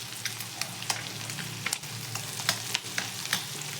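Garlic fries in a little hot oil for a Marathi-style egg fry, a soft steady sizzle broken by small crackling pops and light stirring, with no one talking.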